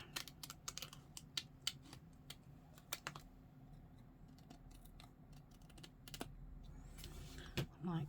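Scissors snipping out a paper leaf shape for a botanical folio journal, a run of quick, sharp cuts and paper rustles at close range, irregular and fairly quiet with pauses between bursts.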